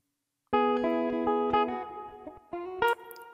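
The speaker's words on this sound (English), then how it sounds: "I just put on a reverb to enhance the tail a little bit." A sustained, effected guitar chord rings out with distortion, a few plucked notes follow, and a reverberant tail lingers as it fades.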